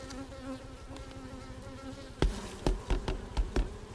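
Calm, busy honey bees hum around a backyard hive, a soft steady buzz with insects drifting past, then several sharp knocks or taps near the end.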